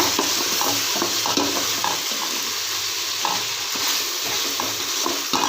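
Onions and tomatoes fry in oil for a fish curry, making a loud, dense, continuous sizzle with rhythmic stirring scrapes every second or so, close and without talk.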